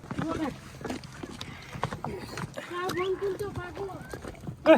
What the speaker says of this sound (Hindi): घोड़ा आ रहा।